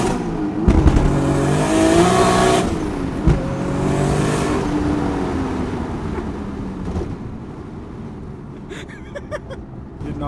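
An 800hp big-turbo manual Toyota Supra accelerating hard, its engine rising through revs with abrupt shift breaks, loud and close from inside the car before easing off toward the end.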